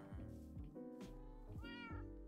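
Several Minecraft cats keep meowing in a steady string of short calls, overlapping slightly and staying quiet but distinct, with no one talking.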